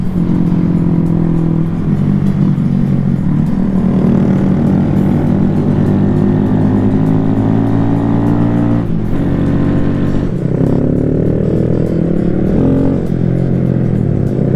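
Honda Grom motorcycles on a group Christmas Eve ride, engines droning loudly and continuously with shifting pitch as riders accelerate and ease off, close to the microphone throughout.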